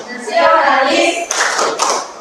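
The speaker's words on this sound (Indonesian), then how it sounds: "kalian tepuk PPK dulu ya" A class performs the PPK clap chant, with rhythmic bursts of hand clapping layered under loud chanting voices, close and energetic.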